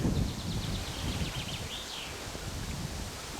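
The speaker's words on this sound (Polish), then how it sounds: "I dość silny wiatr" Strong wind rushes and buffets the microphone with a steady low roar at a lakeside holiday resort in Poland, while faint bird chirps sound in the distance.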